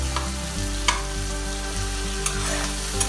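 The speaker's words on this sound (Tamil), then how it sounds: "நல்லா வதக்கிக்கோங்க" Tomatoes with turmeric and chili powder sauté for tomato dhal, a close continuous sizzle under a low hum, broken by a few sharp utensil scrapes against the pan.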